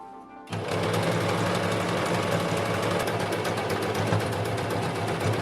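A sewing machine starts up and runs continuously, stitching French seams along the bottom of a kimono sleeve. The rapid, even needle rhythm is close and steady for several seconds.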